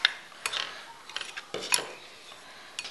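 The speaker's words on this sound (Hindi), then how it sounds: "हम नमक, मिर्च और हल्दी को अच्छी तरह से मिक्स कर देंगे।" Salt, chili and turmeric are stirred into ground spice for gooseberry pickle masala, with a spoon scraping and clinking against a bowl in soft, irregular taps close by.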